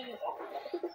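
Domestic pigeons kept by a collector in Rajshahi give short, throaty coos in quick pulses, close by, with a voice overlapping.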